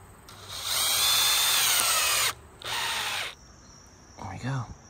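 Power drill driving a screw into lumber while building a tree house: one long loud whine, then a shorter burst and a brief final spurt, close up, with a faint voice near the end.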